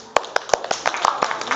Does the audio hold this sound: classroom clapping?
yes